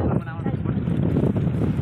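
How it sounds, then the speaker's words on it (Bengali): Strong wind buffets a boat on the waterways of the Sundarbans in rain, making a continuous deep, rumbling roar close to the microphone, with a voice faintly mixed in. "প্রচন্ড হাওয়া হচ্ছে।"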